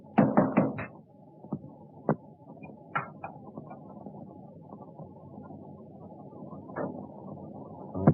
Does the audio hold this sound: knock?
yes